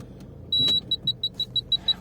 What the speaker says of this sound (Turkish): Park sensörünün sesi de bu şekilde.